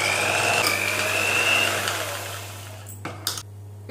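An electric mixer beating eggs into choux pastry dough for profiteroles: a steady loud motor whir for about two and a half seconds, then it cuts off and a few clinks of the beaters follow.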